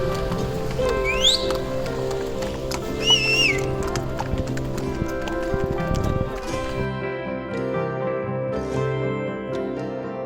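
Horse hooves clip-clop steadily during a tourist horse ride at Naldehra near Shimla, with a couple of short whinnies early on and a continuous rhythmic clatter up close.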